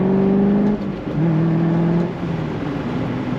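A 2005 Chevrolet Corvette convertible engine pulls in third gear through a corner, a steady close engine hum with a brief dip in pitch before climbing smoothly again.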